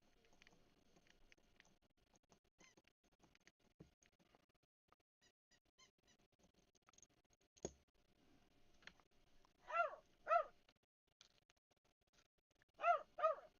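A small dog barks in a garage or workshop during mountain bike shock maintenance, two pairs of short, loud yaps arriving near the end after quiet clicks and taps.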